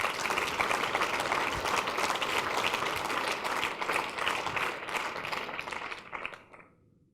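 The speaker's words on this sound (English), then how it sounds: "Give them a round of applause, please." Steady applause from a crowd, a dense wash of clapping that holds for several seconds and then quickly dies away.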